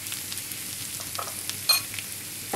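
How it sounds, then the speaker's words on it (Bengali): Chopped chili and turmeric powder fry in a pan, giving a low steady sizzle with occasional scraping stirs, one of them louder near the middle. "এবার আমরা এটাকে ভালোভাবে একটু কষিয়ে নেব।"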